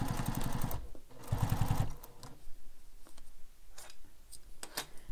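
A sewing machine stitches a bag seam for a carryall in two short bursts of rapid needle chatter, followed by softer handling clicks and rustles; no one speaks.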